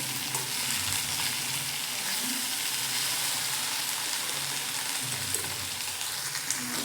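Paneer thecha kebabs sizzle in a pan, a steady dense frying hiss with faint crackles and the odd soft clink, continuous and close with no talk.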